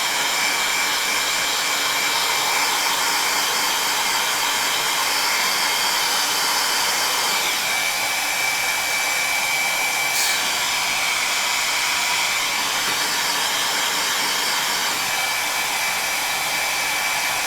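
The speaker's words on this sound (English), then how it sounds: "the heat gun is now set to minimum" A heat gun on its minimum setting, about 50 degrees Celsius, blows with a steady, even whoosh of air, continuous and close with no talking.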